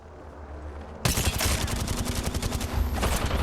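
Automatic gunfire in Apex Legends erupts suddenly after a low ambient rumble, a loud, continuous rapid-fire barrage of close shots that continues to the end.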